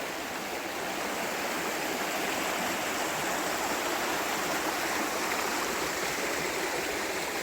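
A creek flows over rocks beside a mossy, iron-colored cliff, giving a steady, loud, close rush of water that holds constant and even throughout, with no talking.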